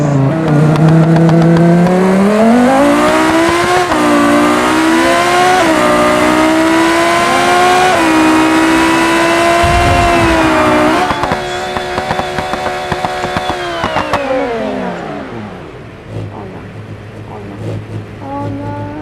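Loud video-game car engine accelerating hard up a big hill, revs climbing and dropping in repeated gear-shift surges before cutting out near the end, a lighter idle remaining.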